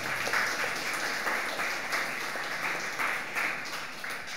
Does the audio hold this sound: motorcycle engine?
no